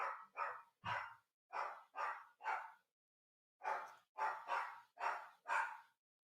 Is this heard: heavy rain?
no